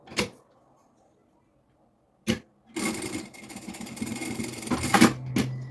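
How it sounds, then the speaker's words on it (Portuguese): Sewing machine stitching fabric for a preschool backpack: two short isolated clunks, then a steady loud mechanical whir of the needle running continuously for several seconds, close and without talk. "E vamos só fazer a costura em cima, só num dos lados, ok?"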